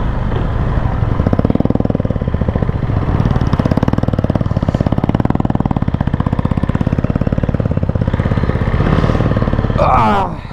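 A Royal Enfield Himalayan 450 motorcycle off-roading in fog, its engine close and loud with a fast, steady thumping beat that holds throughout before easing off near the end, with voices faintly mixed in.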